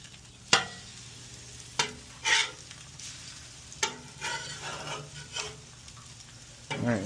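An egg fries on a Blackstone griddle with a soft, steady sizzle, and sharp spatula scrapes and taps punctuate it as the egg is flipped.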